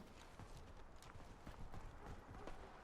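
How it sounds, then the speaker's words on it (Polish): Footsteps of someone running sound in the Warface video game as a fast patter of thuds over a dense rumbling background of gameplay noise, with no clear speech. "Słyszę, że ktoś tu biega."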